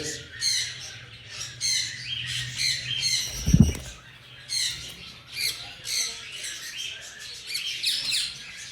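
Rosella and ringneck parrots kept as show-quality birds call with sharp, repeated squawks and chirps close by, alongside a brief low thump partway through.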